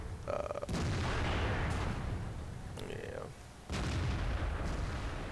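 A heavy tank gun booms in a World of Tanks-style game as an IS-7 fires, sharp blasts with rumbling tails at intervals amid constant engine and battle noise, moderately loud, no talking.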